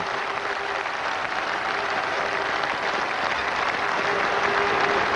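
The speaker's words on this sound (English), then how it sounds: "the whole of the West Indian team stand to applaud him" Steady, sustained applause from a cricket crowd and the West Indies fielding side at a NatWest Series match at Chester-le-Street, dense clapping filling the whole stretch at an even level with no voices.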